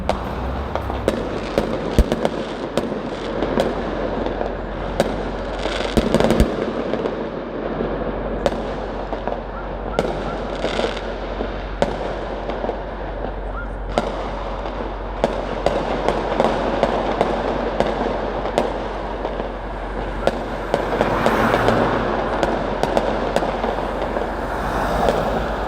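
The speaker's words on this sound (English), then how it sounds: "It sounds like these fireworks are going off on the other side of Tiger Towers." Distant fireworks pop and crackle in irregular volleys across a Los Angeles neighborhood at night, many sharp reports over a constant low rumble of city background, with no talking.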